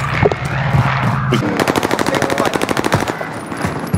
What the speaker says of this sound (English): Stop shooting at me! Under hostile fire!